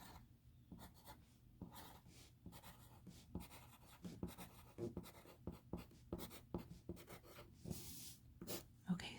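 Pencil scratching across paper in close, crisp strokes, a steady run of short scrapes and taps in uneven rhythm, quiet and intimate with no talking over it.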